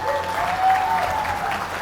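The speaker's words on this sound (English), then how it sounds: "Give yourselves a big round of applause." An audience at a food justice honors event claps together, a brief, moderately loud patter of applause from a crowd, with a few voices faintly mixed in.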